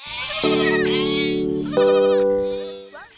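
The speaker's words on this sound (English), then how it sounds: "I see four more sheep here." Two long, loud, close sheep bleats ring out back to back in a cartoon-style setting, each a sustained wavering call.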